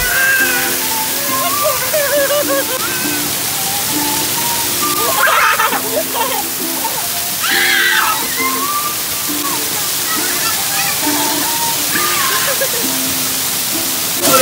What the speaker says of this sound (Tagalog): Parang may mini falls pa sila dito